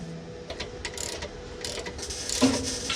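Ratchet wrench turning while repairing the rear fender of a 1936 Ford, a series of close, irregular clicking and ratcheting bursts with small metallic knocks.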